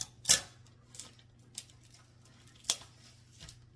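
Kitchen scissors working to cut open a package of bacon, giving a handful of sharp, close snips and clicks spaced irregularly over a faint background hum.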